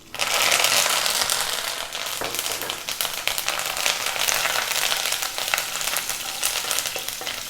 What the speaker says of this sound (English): Then we're going to drop in the curry leaves. Now, they can be very, very noisy.